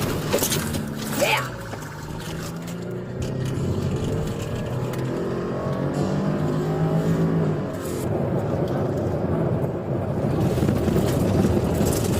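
A stolen police cruiser's engine revs and accelerates away with rushing wind noise, while a person talks over the roar.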